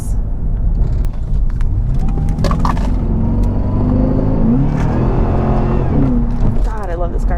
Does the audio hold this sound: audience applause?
no